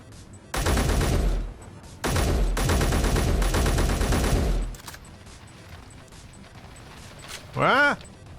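Bursts of rapid automatic gunfire in a video game, two long loud volleys of steady repeated shots, then quieter scattered sounds and a short rising whine near the end.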